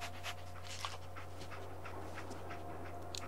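Dogmeat, the dog in Fallout 4, pants in quick, steady breaths close up over a constant low game hum, with no talk.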